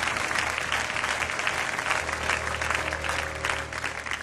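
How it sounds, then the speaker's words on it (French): A church congregation claps continuously, a dense, even patter of many hands sustained throughout and easing slightly at the end, with some indistinct crowd murmur beneath. "Je ne sais pas pourquoi l'acclamation de ton voisin était si molle"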